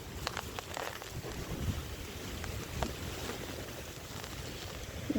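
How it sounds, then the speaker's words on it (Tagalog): Gusty wind buffets the microphone on an orange farm in Sackville North, NSW, Australia, with a constant rushing roar and occasional sharp bumps, loud and close, with no one talking. "Lakas ng hangin."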